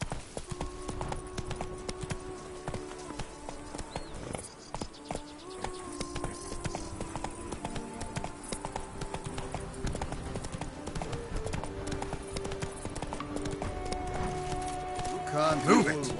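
Horse hooves clip-clopping at a steady gallop in The Witcher 3: Blood and Wine, a continuous rhythmic drumming under game music and a voice urging the horse on.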